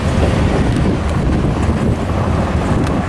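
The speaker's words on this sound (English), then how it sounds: "It is windy down here." Strong wind buffets the microphone at a railfanning spot, a loud continuous roaring rush for the whole stretch with no voices.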